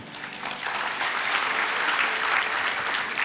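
Sustained applause from a church congregation during a Sunday service, broad steady clapping that fills the room evenly for the whole stretch without a break.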